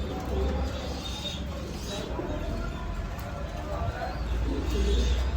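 A pair of fancy White Mumbai pigeons coo softly in a loft, low repeated murmuring calls with faint chirps and shuffling around them.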